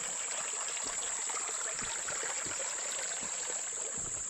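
Creek water flows on a morning walk, a continuous close rush and trickle of water over stones, steady and fairly loud, with a bright high whine running across the top and no talking.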